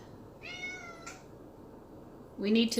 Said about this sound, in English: My little cat's meowing in the background, sorry.